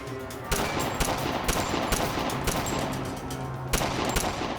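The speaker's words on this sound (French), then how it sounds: "Quelques secondes plus tard, la fusillade avait commencé." A shootout rendered as a gunfire sound effect: rapid bursts of loud, close shots crackling over a continuous noisy background, with sharper reports standing out at intervals.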